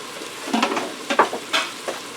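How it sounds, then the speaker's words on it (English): Diced onion sautés with browned beef in a pot for stew, a close sizzle stirred in short scraping bursts with brief pauses between them. "I'm going to allow for this onion to saute in here for a few minutes"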